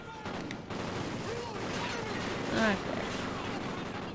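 Gunfire from the video game Call of Duty: Ghosts crackles in dense bursts throughout, with a louder peak near the middle, while a player speaks briefly over the shooting.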